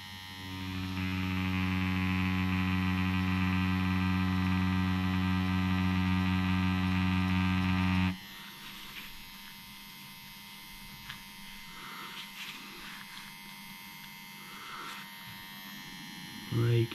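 A Dragonhawk Mast Fold rotary tattoo machine with a 9 round liner at a 3.9 mm stroke buzzes close up with a steady electric hum for about eight seconds, then cuts off, leaving quiet room noise with a voice talking.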